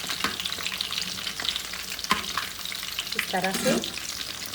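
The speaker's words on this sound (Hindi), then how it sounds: "इसको मीडियम टू लो फ्लेम पर ही फ्राई करेंगे" Dhaka fried chicken pieces frying in oil over a medium-low flame, a crackling sizzle with spatula knocks and a brief scrape near the end, and a short spoken phrase over it.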